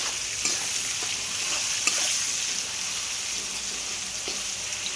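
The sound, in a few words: onions frying with salt in a pan for chicken curry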